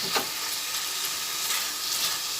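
Chicken breast pieces for chicken ghugni sizzle steadily in a hot pan, with soft scraping strokes of a spatula stirring them every half second or so, close and even, with no talking.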